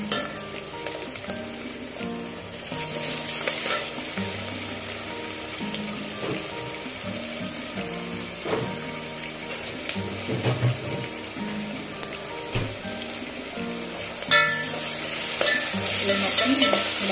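Ginger garlic paste frying in a pan for methi chicken, a dense continuous sizzle with repeated scraping and stirring clatters throughout, close and fairly loud, growing busier toward the end.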